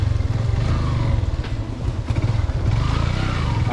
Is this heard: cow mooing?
no